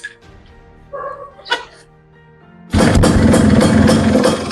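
A dog gives a few faint yips and whimpers, then a Yamaha Sport 100 motorcycle in SS spec fires up abruptly. Its engine settles into a loud, steady, close idle.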